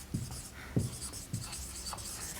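Chalk or marker strokes on a board during a class 9 maths lesson on operations with real numbers, a few short scratchy marks spaced under a second apart over a faint room hum, with no talk.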